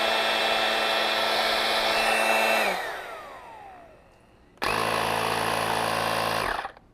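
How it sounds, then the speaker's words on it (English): A compact air compressor auto inflator runs with a loud, steady electric whine, winds down and stops, then after a short pause starts again at full buzz before cutting off abruptly near the end. "this button right here is to use the auto inflator"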